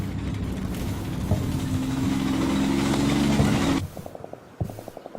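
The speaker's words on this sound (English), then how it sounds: "there comes the Stuck" A StuG assault gun's engine rumbles steadily in the Combat Mission Red Thunder video game, loud and continuous for most of the stretch, then cuts to quieter scattered thuds near the end.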